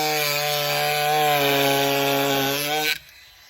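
Kutzall carving tool whirring as it cuts bark and solid wood on a walking stick, a steady buzzing grind with a strong hum for about three seconds before stopping abruptly.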